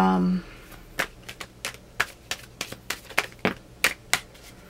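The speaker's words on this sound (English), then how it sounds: "sometimes when I shuffle, especially with this deck, it" A tarot deck being shuffled, a quick run of sharp, evenly spaced card snaps and slaps close to the microphone, following a brief bit of speech at the start.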